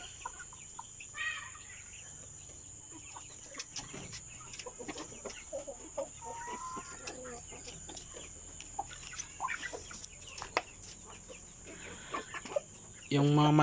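Broiler chickens, 48 days old, cluck and murmur intermittently in a quiet barn on a farm, with scattered soft calls and a steady background hum, ending in a sudden louder burst.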